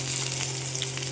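Ridge gourd and potatoes tip into a pan of frying onions for a bata fish curry, setting off a steady, close sizzle and hiss that holds for the whole moment, with no talking.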